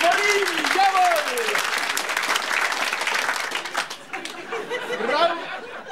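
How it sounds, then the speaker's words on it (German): Loud, sustained applause from a large studio audience at a live game show, with cheering and a few voices calling out over the clapping. "Das ist ein Applaus wert, meine Damen und Herren!"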